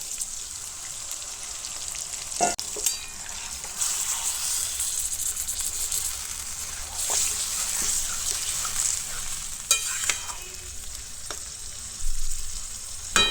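A bottle gourd and meat curry sizzles and fries steadily in a pan as a little bowl-rinse water is poured in, with hissing throughout, bursts of crackle and occasional clinks of a utensil, close and continuous.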